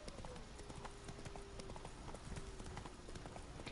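The horse Roach runs in The Witcher game. Hoofbeats pound continuously at a quick gallop, mixed into a dense, steady background of game sound.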